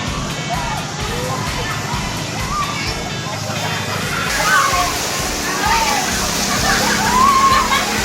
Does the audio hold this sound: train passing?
no